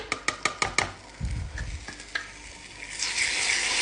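Caramel sauce with Danette caramel dessert is stirred in a pan: a quick series of sharp spoon clacks, a low thud, then a soft scraping sizzle that swells toward the end, with no talking.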